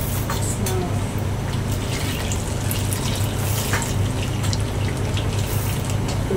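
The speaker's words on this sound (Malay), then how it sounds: "kita masukkan air" Water is poured into a cooking pot with fragrant spices while shrimp in coconut curry is prepared, a steady splashing rush close by, with kitchen clatter and a voice talking briefly in the background.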